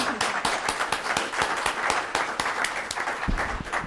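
Audience applause at a panel discussion on climate change, water and the Himalayas, dense steady clapping from a crowd filling the room and holding an even level throughout.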